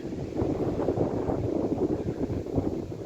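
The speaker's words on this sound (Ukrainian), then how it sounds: "ну вітер дуже, такий вітер навіть аж морозним тягне" Strong, cold autumn wind in a forest buffets the microphone in continuous low, gusty roaring, loud and unbroken throughout with no voices.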